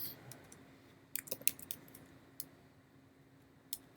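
Computer keyboard typing, sparse quiet key clicks in small clusters separated by pauses, close but faint over a low hum, no voices.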